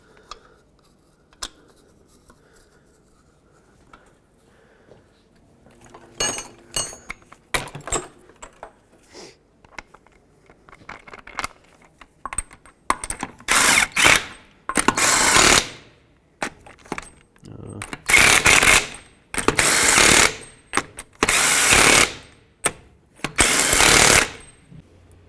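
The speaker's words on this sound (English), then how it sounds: "Start on all 5 of your lug nuts, snug them up, and then I'll torque them to 80 foot-pounds." Lug nuts on a 2003-2007 Nissan Murano wheel are run on, snugged and torqued to 80 foot-pounds, giving sparse clicks and taps that build into repeated loud bursts of ratcheting and impact-tool chatter, close up with no talking.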